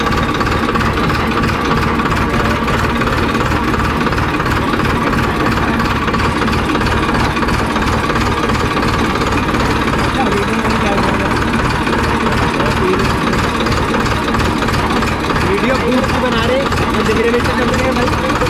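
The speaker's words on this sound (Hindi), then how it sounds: "अब इतने लोग ट्रैक्टर पे बैठ के जा रहे हैं" A tractor carrying a load of people runs along steadily, its loud engine chugging with a rapid, knocking rhythm while voices talk over it.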